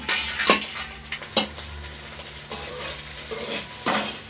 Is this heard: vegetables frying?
yes